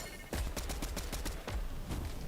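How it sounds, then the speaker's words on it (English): Rapid gunshots in a Fortnite Zero Build match, a string of sharp cracks repeating in quick succession at a moderate distance, loud and busy throughout. "More shots on the side."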